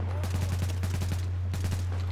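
Rapid bursts of automatic gunfire from a shooter video game, The Division, crackle in two quick volleys over a steady low hum, loud and close.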